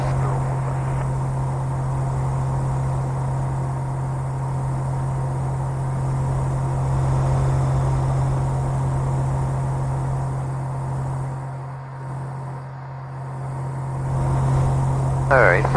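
A Viking 150 engine in a RANS light aircraft cruising at about 4,000 RPM gives a steady, loud, droning hum throughout, with only slight changes in level and a brief dip near the end.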